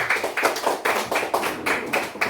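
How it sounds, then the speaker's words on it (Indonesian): A group clapping in steady bursts, several quick claps per beat in a regular rhythm, fairly close and alone without talk. "Oke, tepuk tangan dulu."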